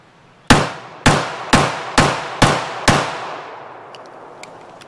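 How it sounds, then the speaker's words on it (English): A Springfield Operator 1911 pistol firing Phoenix ammo on an outdoor range, six sharp loud shots at a steady pace about half a second apart, each with a ringing decay, followed by faint clinks. "start off with Fox's Springfield Operator with the Phoenix ammo"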